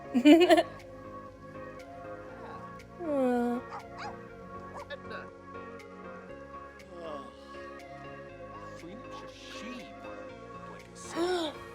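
Dogs at a dog park in The Sims 4 bark, yip and whimper in short, scattered bursts at moderate volume, mixed with game background sounds.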